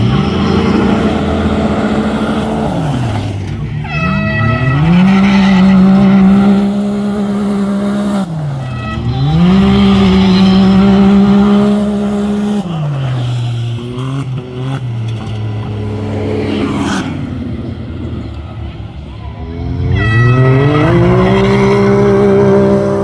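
Side-by-side race cars roar past at a county fair dirt track, loud engines rising and falling in repeated revving sweeps as the machines pass close by, with tire noise and no talking.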